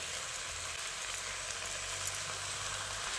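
Chopped red amaranth greens hit a pan of softened, watery vegetables, giving a steady, moderate sizzle and frying hiss that runs evenly throughout with no talk.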